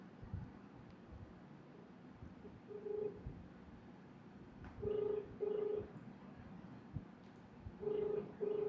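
A phone call is placed: a few short, faint tones from the handset sound in spaced bursts, then the line ring repeats, over a hissy room background.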